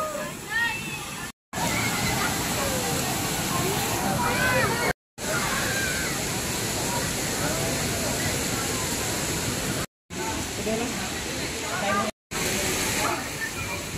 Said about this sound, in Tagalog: Dito tayo ngayon sa Sprite Falls.